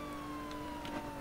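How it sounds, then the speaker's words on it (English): A steady wailing police siren tone holds in the background in the game Emergency Response, moderately loud, with no talking. "I hear sirens"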